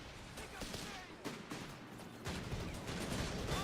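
Strafing-run gunfire in Company of Heroes 3 sounds as dense bursts of rapid shots and impacts that come in waves, with a voice talking over the battle noise.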